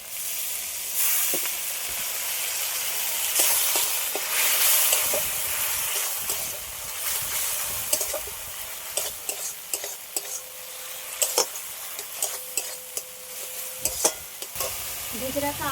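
Chillies and chilli powder with a splash of water hiss and sizzle in a hot pan for a chicken curry with ripe mango, a continuous loud frying with scraping stirs and light utensil clinks toward the end.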